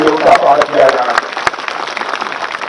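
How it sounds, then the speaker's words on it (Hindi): A crowd at a political rally in Assam applauds with scattered clapping under loud amplified voices, the claps continuing as a busy mid-level patter. "इसलिए एक बार तालियां बजाकर वैज्ञानिकों का भी अभिनंदन किया जाना चाहिए"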